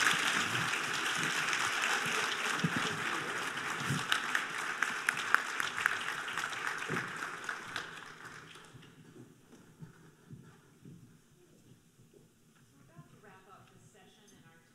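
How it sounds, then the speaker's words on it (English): Audience at a philanthropy dinner plenary applauding panelists, dense clapping that holds strong for several seconds, then thins into scattered claps and fades with a few voices underneath. "thank our wonderful panelists with a big round of applause"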